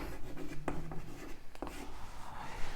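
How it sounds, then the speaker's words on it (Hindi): Chalk or marker writes across a classroom board in a few short strokes and taps, quiet and close, with light room noise around them. "यहां लिख देता हूं धातु का पृष्ठ।"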